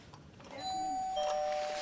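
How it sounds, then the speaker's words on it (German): Doorbell at a house in Kilianstetten rings once, a two-tone electronic chime heard at moderate distance against quiet room ambience. "Und als wir da geklingelt haben,"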